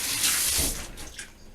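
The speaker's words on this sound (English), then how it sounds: "I'm going to go ahead and wash my hands real quick." A kitchen sink tap runs while hands are washed, giving a short, close burst of splashing water that eases off toward the end, with no voices.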